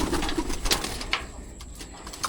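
Pigeons in a breeding loft give soft, low cooing calls among scattered rustles and sharp clicks, fairly quiet and close, with no talking over them.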